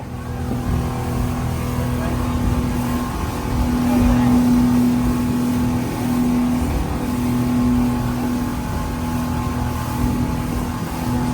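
Motorboat engine droning steadily throughout a boat ride around Thailand's Phi Phi islands, a loud continuous hum with slight rises in pitch, no talking.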